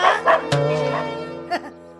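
A man mimics a dog's barking in a Telugu comedy scene, giving a few short, loud bow-wow yaps close up, spaced over two seconds.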